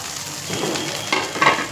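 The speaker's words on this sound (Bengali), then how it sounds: "এবার একটু ভাজতে থাকবো শুকনো করে আলুটা" Diced potatoes fry in hot oil with garlic and ginger in a pan, giving a soft steady sizzle with light stirring scrapes and a few brief crackling bursts near the end. No one speaks.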